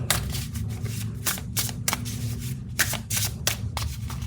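Tarot cards being shuffled by hand to draw one card, a brisk series of close, crisp riffling bursts repeating every half second or so over a low steady hum, with no voice.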